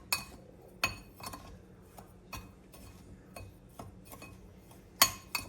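Seasoning mixed into breadcrumbs in a bowl for old-fashioned meatloaf: scattered light clinks and taps of a utensil against the bowl, a few sharper knocks among quieter scraping, close and alone.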